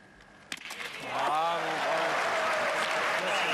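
Crowd applause at a pétanque world championship final in Grenoble, 2004, starting as a few sharp claps and swelling into sustained, dense clapping from a large audience, with voices mixed in.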